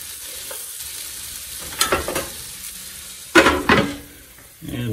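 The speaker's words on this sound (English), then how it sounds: "Now I'm gonna put the onions in. I'm gonna let them saute down a little bit" Onions sautéing in a pan, a close, steady sizzle broken by two bursts of stirring and scraping, then a louder rush of frying near the end.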